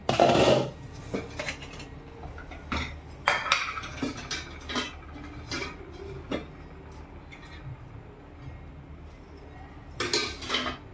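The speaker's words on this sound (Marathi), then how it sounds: "टोप ठेवलाय, त्याच्यात मी तेल टाकते।" A cooking pot set on a gas stove before oil is poured in for an egg paneer masala gravy: sharp metallic clanks and clinks of cookware, a loud one at the start and more scattered through, close up, with no talk.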